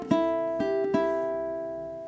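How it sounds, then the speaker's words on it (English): Ukulele picking a quarter-eighth rhythm of bright plucked notes in a bluegrass tune, four close attacks with the last note ringing out and slowly fading, played alone. "So it sounds like this on the uke."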